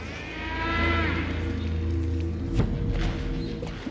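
A cow-like moo rises and falls for about a second inside the Metal Gear Solid 4: Guns of the Patriots video game, followed by a dull thump over a steady low game rumble.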